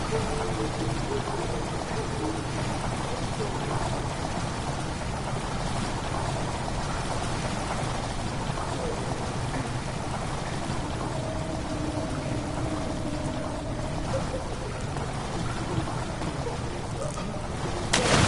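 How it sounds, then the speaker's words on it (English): Water rushes into a stone chamber in the horror game Amnesia: The Dark Descent, a steady, dense roaring wash like heavy pouring rain that continues unbroken throughout. "Water rushing into the chamber makes a strange sound."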